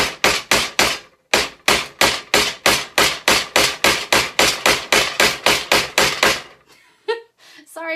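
Around twenty sharp hammer blows drive tiny nails into scrap wood in a steady, quick rhythm, then stop, followed by a few faint knocks and rustles.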